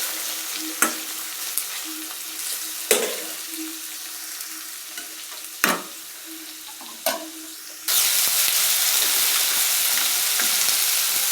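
Green chillies, onion and tomato frying in a pan, a steady close sizzle with occasional sharp clacks of a spoon stirring, the frying growing louder and denser near the end.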